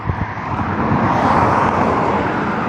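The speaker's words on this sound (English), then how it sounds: "I heard a car." A car passes by outdoors, its engine and tire noise swelling into a broad, loud rush and then holding as a steady roar.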